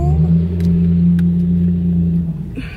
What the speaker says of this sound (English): very aggressive truck over there.